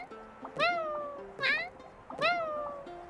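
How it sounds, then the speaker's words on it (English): Kirara in her box cat form in Genshin Impact gives three bright, rising-and-falling meows, evenly spaced about a second apart, clear and close over soft game music. "Kirara in her box cat form meows whenever she jumps."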